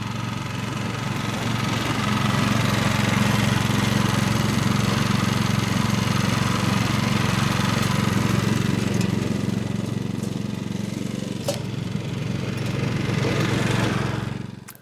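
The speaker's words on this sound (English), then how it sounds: "put the grass collection box on, start it up, and we'll do a few stripes up and down the lawn" A Cobra Fortis lawn dethatcher with a grass collection box fitted runs steadily across a lawn, a loud continuous engine drone with a low hum held for the whole stretch, with no talking.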